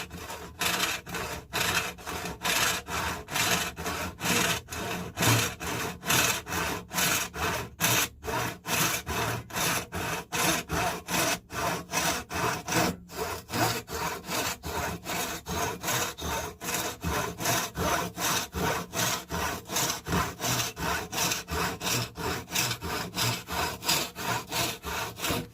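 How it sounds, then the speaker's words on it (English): A hand saw cuts a dovetail halving joint in wood clamped in a vise, producing a long, steady run of close, rasping back-and-forth strokes at an even rhythm, loud and unaccompanied by talk. "we're now cutting this one with a saw"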